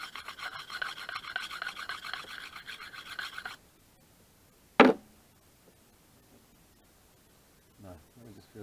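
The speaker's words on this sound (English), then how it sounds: "it's getting to the stage that it's kind of hard to sharpen large axes with it" An axe rubbed against an old, coarse sharpening stone outdoors in the woods: a steady, rhythmic raspy scraping for several seconds, then quiet broken by one sharp knock and a brief voice near the end.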